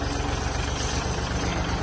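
Kubota L3608SP tractor engine running under load, a loud, steady, close diesel drone with a deep rumble that holds even through the whole stretch, no voices over it.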